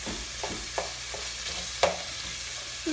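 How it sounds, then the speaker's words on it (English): Chorizo sizzling in a pan while a spoon chops and stirs it, giving a soft continuous fry broken by several light scraping taps of the spoon, close and fairly quiet. "we're gonna get our spoon and just chop it up, that way it cooks"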